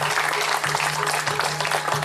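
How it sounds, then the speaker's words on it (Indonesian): Audience applause at a Balinese performance, a steady wash of many hands clapping together, loud and continuous, over a low sustained hum. "Tepuk tangan dulu."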